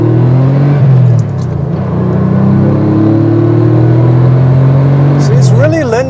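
A Porsche 964 Carrera pulls hard in first gear on an open road, its engine droning loud and close with rising pitch as it accelerates. Near the end the whine sweeps up and down while a voice talks over it.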